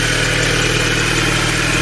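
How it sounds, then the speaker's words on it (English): A car engine idling steadily after a cold start on a hot day, a constant low rumble and hum, close and continuous with no voices. "As you can hear, the car is running"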